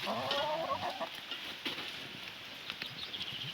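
A few chickens cluck softly nearby, scattered calls over quiet outdoor background with light shuffling.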